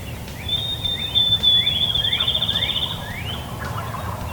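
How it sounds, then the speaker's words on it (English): Wild turkeys gobbling on a spring morning in Indiana, one loud near gobble with rattling trills over a steady outdoor background, fainter answering gobbles around it. "There were birds gobbling everywhere."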